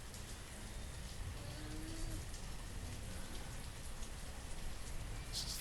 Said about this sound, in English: So here comes the rain, as you can see.